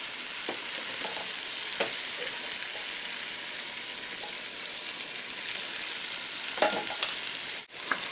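Coconut milk poured into a pot of yellow rice with gandules gives a steady loud sizzle and bubbling hiss, broken by a few soft stirring clinks and scrapes, with no voices.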